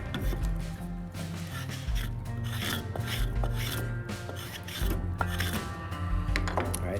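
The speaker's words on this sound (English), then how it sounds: "use either the spoke shave or a file rasp to break the edges right here and all the way around" A file rasp breaks the edges of a wooden mallet in repeated rough strokes, each scrape a burst of raspy friction, close and steady in rhythm with faint hum underneath.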